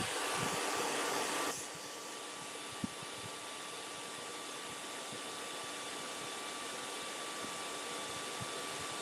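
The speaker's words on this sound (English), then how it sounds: "All right, let's blow dry." A hair dryer blows on freshly painted nails, loud and airy for about a second and a half, then cuts to a much quieter steady whir that continues with a few faint clicks.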